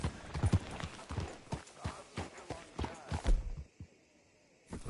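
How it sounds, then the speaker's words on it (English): Rhythmic clip-clop of horse hooves walking at a steady pace in the video game Red Dead Redemption 2, fairly close, then a sudden stop followed by a quiet stretch. "Hitch your horse up here."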